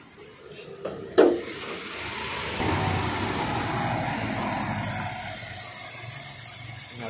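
A 2014 Hyundai Grand i10 Sportz engine idles steadily under the open bonnet, a close, even mechanical hum with a sharp click or knock near the start and no talking.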